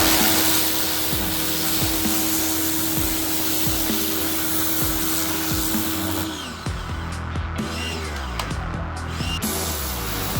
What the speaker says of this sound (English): right now we're going to be hitting the pressure washer all over the unit so we have the cleanest we can get it